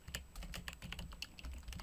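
Quick, irregular keystrokes on a computer keyboard as a command is typed, close and fairly quiet, with no talking.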